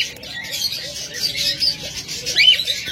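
Pet lovebirds, budgerigars and cockatiels in breeding pairs give a steady, busy chatter of high chirps and tweets from many birds at once, close by and fairly loud, with no talk over it.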